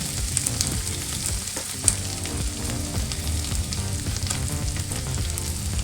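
Grated coconut and mint leaves fry in a pan for an avarekalu bean masala curry, making a loud, dense, close sizzle that holds steady throughout with small crackles and no speech.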